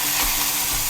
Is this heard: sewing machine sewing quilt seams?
no